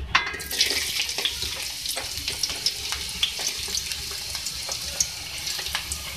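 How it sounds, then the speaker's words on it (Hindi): Two medium-sized onions frying in oil in a pan for village-style aloo baingan give a steady, watery sizzle with scattered crackles. The sound is close and continuous, with no voice. "सबसे पहले मैं ऑयल में 2 मीडियम साइज़ प्याज ऐड करूँगी।"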